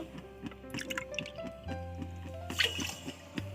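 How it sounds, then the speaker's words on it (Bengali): Water poured from a cup into a pot holding sugar, a few soft liquid splashes and drips close by over a low background hum, with no talking. "এবার এই কাপের 4 কাপ আমরা এখানে জল দিয়ে দেব"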